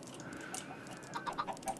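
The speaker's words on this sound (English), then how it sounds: "Chicken, chicken, chicken." Chickens in the video game Minecraft cluck in a quick run of short, faint calls near the end, over a soft background hum.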